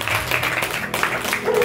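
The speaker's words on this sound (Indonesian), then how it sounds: "Berikan tepuk tangan untuk Tuhan kita." A church congregation applauds together in a dense, continuous patter of many hands. It carries steadily throughout with a faint voice mixed in.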